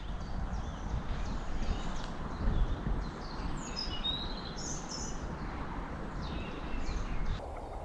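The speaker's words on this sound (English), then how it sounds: "let's listen to the bird through the GoPro mic" A bird sings outdoors, heard through a GoPro 6 action camera's built-in microphone: thin, high chirps and short trills that are faint and sparse over a heavy, rumbling low hiss of wind and handling noise.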